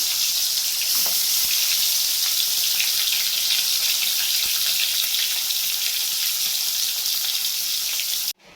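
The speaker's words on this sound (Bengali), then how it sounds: "এখন আমি মাছটা ভেজে নিই আগে থেকে কড়াইতে তেল দিয়ে দিয়েছিলাম" Fish fries in hot oil in a wok, giving a constant, loud hiss with faint crackles and pops over about eight seconds, then stopping abruptly at the end.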